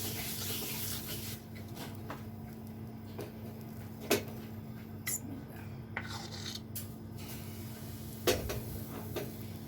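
Egg pitha batter being stirred in a hot oiled griddle pan, a continuous gentle scraping and sizzle with a few sharper metallic clinks of the utensil, close and steady.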